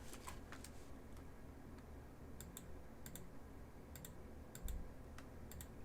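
Computer keyboard typing and mouse clicks during 3D retopology work in Blender, a steady run of quiet, close clicks and keystrokes in short bursts over a low background hum.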